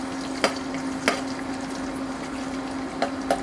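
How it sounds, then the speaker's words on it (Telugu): Urad dal fries in hot oil in a pan, a soft steady sizzle broken by a few sharp pops and crackles spread across the moment. "నూనె కొద్దిగా కాగిన తర్వాత 2 స్పూన్స్ మినపప్పును వేసుకుని కాసేపు వేగనివ్వాలి"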